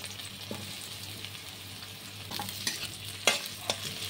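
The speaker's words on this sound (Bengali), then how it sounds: "এবার বাকি সবজিগুলো ভেজে নিচ্ছি। করলাগুলো আগে দিচ্ছি, বেগুনটাও দিয়ে দিচ্ছি" Bitter gourd and eggplant frying in oil for a Bengali shukto, a steady low sizzle with occasional stirring clinks and scrapes, close and moderately quiet, no voices.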